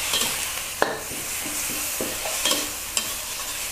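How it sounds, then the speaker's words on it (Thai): Minced pork stir-fried in a hot pan: a steady close sizzle with sharp spatula scrapes and clicks against the metal at irregular intervals, no voices. "ใส่หมูสับค่ะที่เราเตรียมไว้ลงไปผัดเลย"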